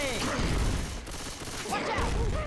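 Rapid gunfire aimed at a Charger in Left 4 Dead, loud close bursts of shots over roughly two seconds amid chaotic game noise and shouting voices.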